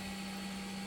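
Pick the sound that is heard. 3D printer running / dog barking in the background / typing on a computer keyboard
3D printer running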